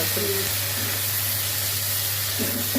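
Onions sizzle while being sautéed in a pan for a Tamil dish, before tomatoes go in. It makes a steady, close hiss with no talk over it.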